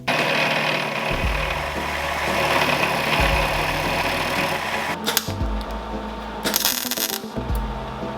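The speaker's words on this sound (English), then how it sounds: "I'm just gonna clean this up in the lathe real quick." A metal lathe turns while a part is cleaned up, giving a continuous motor hum with low rumbling surges and several bright metallic scraping bursts near the end, with no speech.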